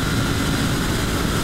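A 2023 Suzuki GSX-8S motorcycle being ridden: a loud, dense, steady roar of engine and rushing wind at speed, continuous with no breaks and no voices.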